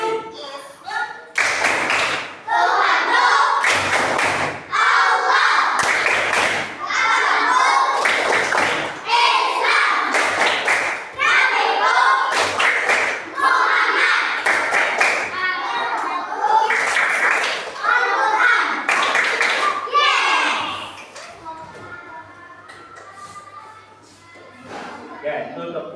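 Children chant the Islamic tepuk rhythm in a classroom, loud synchronized claps punctuating their shouted words in regular bursts, ending with quieter chatter.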